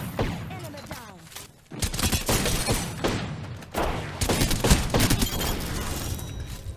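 Gunfire in the battle royale game Fortnite, a loud, dense and continuous barrage of shots and impacts close by, with voices partly mixed in beneath it.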